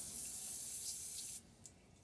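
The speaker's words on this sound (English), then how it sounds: "I'm gonna put some penetrating oil on it too" Penetrating oil (PB Blaster) sprayed from an aerosol can onto a head bolt on a 5.3 LS engine during disassembly, a steady close hiss lasting over a second before cutting off abruptly.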